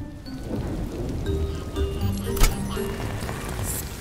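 Steady rain with rumbling thunder in a children's cartoon about a muddy mountain rescue, a continuous wet hiss with one louder crack partway through, sounding as background under the scene.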